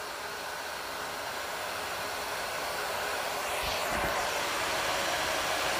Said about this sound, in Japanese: ドライヤーしてる。